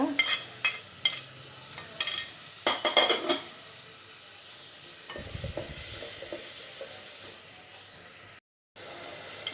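Prawns rubbed with turmeric and salt fry in oil with chopped onion and garlic, a close, steady sizzle broken early on by several sharp stirring scrapes against the pan, with no talk.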